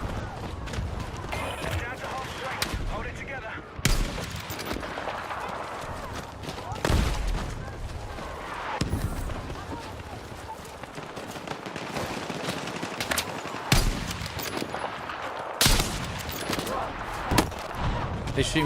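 Sniper rifle shots and other gunfire in a Battlefield 6 match, sharp loud cracks at irregular intervals over a constant battle din, with someone talking throughout.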